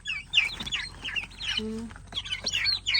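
Turkeys on a rural farm call with repeated high gobbling chirps and clucks at close range, joined by other poultry, with a brief low tone partway through.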